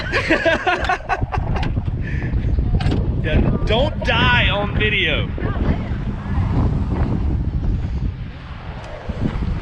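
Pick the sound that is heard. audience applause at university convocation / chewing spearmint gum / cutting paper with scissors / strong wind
strong wind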